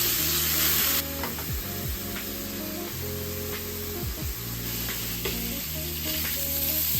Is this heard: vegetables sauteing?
yes